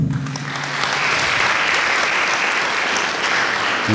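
Steady, dense applause from a crowd at a Turda local council investiture meeting, loud and continuous for the full length with no talk over it.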